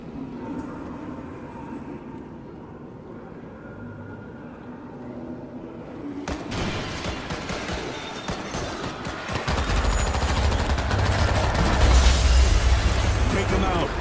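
Gunfire erupts in World War Z as players defend a bridge from swarming zombies. Rapid, dense volleys of shots break out after a quieter opening and grow louder and heavier, with game voices mixed in.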